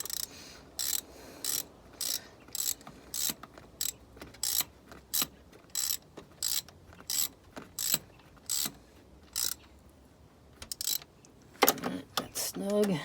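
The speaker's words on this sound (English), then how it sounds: "my bolt isn't tight enough for my ratchet to work" A ratchet wrench clicks while turning a bolt on the exhaust manifold of a Mini Cooper S R56, a close, steady series of sharp clicks about twice a second, followed by a brief grinding scrape at the end.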